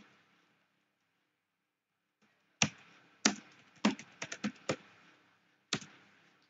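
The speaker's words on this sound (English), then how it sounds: "Type the following command in the terminal to scan the computer's UTP ports" A terminal command is typed on a computer keyboard in an Ubuntu lab: after a moment of silence, a handful of crisp, close key taps arrive in an uneven cluster, ending with one last separate press.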